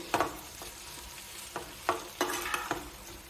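Raw plantain slices cooking in oil under a lid, with a faint, steady sizzle and a few sharp clinks or stirring knocks spaced irregularly, fairly quiet and without speech.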